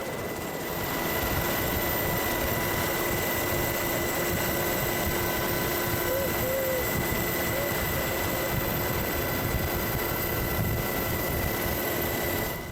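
A UH-60 Black Hawk helicopter with dual engines lifts off vertically, a loud, steady, continuous engine and rotor roar that holds at constant strength throughout, with no talk over it.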